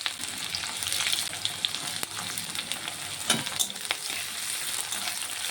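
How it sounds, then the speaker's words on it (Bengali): Chopped onion frying in hot mustard oil alongside garlic cloves, a continuous close sizzle with scattered pops and the clatter of stirring throughout. "কিছুটা পেঁয়াজ কুচিও দিয়ে দেব।"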